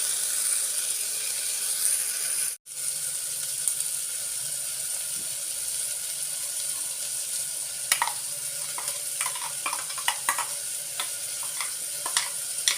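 Ground masala paste fries over a low flame for a pudina and green pea rice bath. A steady, even sizzle runs throughout with a brief break early on, and light stirring clicks and scrapes come in toward the end.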